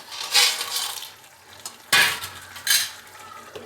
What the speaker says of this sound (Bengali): বড়ি দিয়ে একটু ঢাকা দিয়ে দিলাম